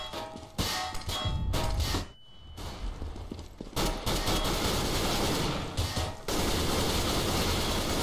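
Loud bursts of gunfire in CS:GO crack out in rapid clusters, with sharp metallic clangs and a short lull before the shooting resumes, all close and heavy.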